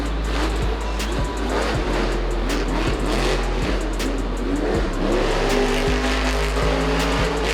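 The Grave Digger monster truck from the Monster Jam series roars as its engine revs hard, rising and falling in bursts with sharp tire squeals, loud and close throughout.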